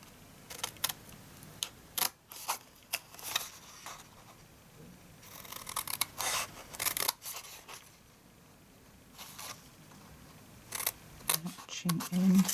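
Scissors snip notches into card while making a box, giving scattered short crisp cuts and clicks that fall quieter between bursts, with a person talking softly at times.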